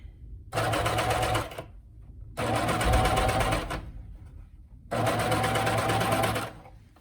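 A coverstitch sewing machine stitches inside a pair of leggings in three steady bursts of rapid, close mechanical hum separated by short pauses.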